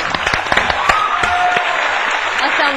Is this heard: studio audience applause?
yes